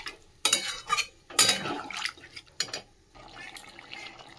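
Water splashes into a cauliflower and potato curry in a pan, with clattering spoon and vessel knocks in short bursts, close and moderately loud.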